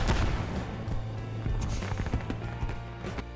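Anti-tank weapon fire against a tank in the video game Post Scriptum, with sharp, close gunshot blasts and booming impacts repeating over a dense, noisy battlefield din.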